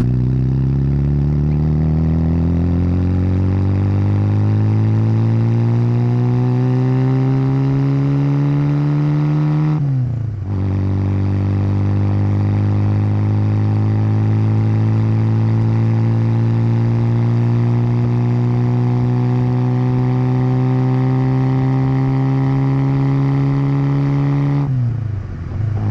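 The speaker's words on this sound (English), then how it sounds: "It has a cherry bomb exhaust, which sounds so cool." A 1991 Robin Reliant three-wheeler's engine drones loud and close through a cherry bomb exhaust, revving up steadily, briefly cutting out, then climbing again, with a gravelly old-school burble and no talking.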